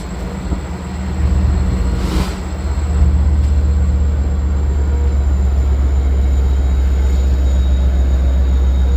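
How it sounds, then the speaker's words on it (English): An M9 commuter train pulls into Babylon station, a steady loud low rumble of wheels and motors with a brief hiss burst early on, holding even and close throughout. "Looks like the Grand Central train's already here, actually. And I can already tell she's an M9 this time."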